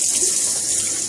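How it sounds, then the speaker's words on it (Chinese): A tap runs water for washing in a steady, close, fairly loud hiss and splash lasting about a second, with no voices. "用水洗一洗。"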